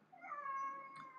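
A cat gives one drawn-out meow, close and fairly clear, its pitch holding steady before easing off at the end, with no talking over it.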